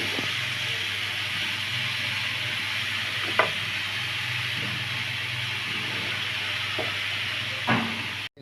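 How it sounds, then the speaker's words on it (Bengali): Grated carrots for halwa frying in a pan, a steady close sizzle and hiss throughout with occasional soft stirring scrapes and knocks of a spoon against the pan. "গাজরটা একটু ভাজা দিয়ে নেব যাতে একটা ঘেরান আসে।"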